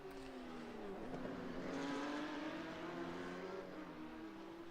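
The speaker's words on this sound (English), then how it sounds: "listen to those beautiful flat six engines of these Porsche" Porsche Cup race cars with flat-six engines racing, a steady droning engine note shifting in pitch as several cars run past at a distance, loud and continuous with no talk.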